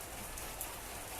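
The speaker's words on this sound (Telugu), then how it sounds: "ఫస్ట్ టైం సమ్మర్లో ఫస్ట్ రైన్ అనమాట ఇది" First rain of summer falling outdoors, a soft, steady hiss of drops that stays even and fairly faint across a brief moment.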